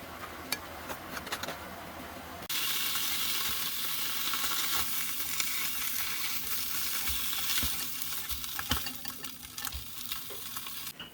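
A hotdog roll toasting in butter in a pan, giving a steady close sizzle that starts abruptly after a couple of seconds and runs continuously with small crackles and pops.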